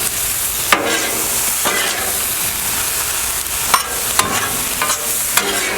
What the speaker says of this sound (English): our steak is mostly done. Just going to give it another turn or two here.